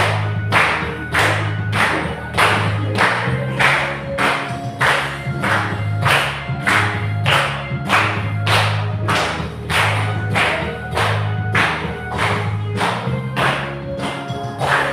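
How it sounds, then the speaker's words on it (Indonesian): Children in a second-grade classroom clapping their hands in a steady, loud rhythm, each sharp clap evenly spaced, over faint background music, with no talking. "Oke, tepuk tangan dong."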